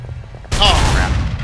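Gunfire in the video game Call of Cthulhu: Dark Corners of the Earth, a sudden loud burst of shots that erupts after a quiet moment and rings on with some echo.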